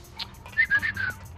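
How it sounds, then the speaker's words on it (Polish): A person whistles a short, wavering call while looking for someone inside Quantum Conundrum, with a brief breathy note followed by a sustained, slightly sliding tone, heard fairly close with no speech over it. "Trochę ciężko gwizdać z suchymi ustami."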